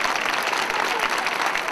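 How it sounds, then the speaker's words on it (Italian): Applause for a devotional association at a religious festival event in Pozzuoli, a brief burst of dense, continuous crowd clapping with no pause. "volevo un applauso per l'associazione intera"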